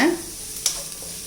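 Finely chopped onions frying in a pan for cabbage Manchurian, a brief hissing sizzle with a single stirring scrape, close and short.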